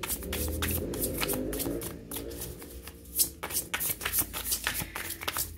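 Tarot cards are shuffled by hand, a brisk run of dense riffling flutters followed by sharper irregular slaps and taps as the deck is handled, close and fairly loud.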